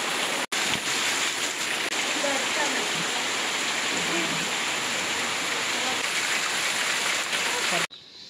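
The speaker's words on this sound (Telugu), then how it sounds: "వర్షం అయితే ఏం దంచి కొడుతుందంటే" Heavy rain pours steadily in a village setting, a dense, loud broadband wash that continues unbroken for several seconds before cutting off near the end.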